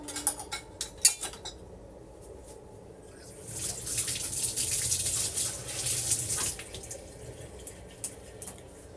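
Boiled noodles for chow mein are tipped into a colander, and the drained water rushes and splashes for a few seconds between lighter clinks and drips in a home kitchen.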